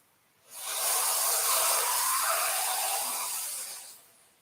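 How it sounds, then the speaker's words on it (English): Soft, steady hiss of sitkari yoga breath drawn in through the gaps between the teeth, one long inhale of about three and a half seconds, close and alone in a quiet room. "So you're going to make a soft hissing sound on the inhale that sounds something like this."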